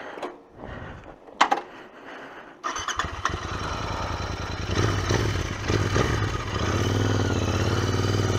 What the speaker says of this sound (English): Love this parallel twin sound, man. Real throaty.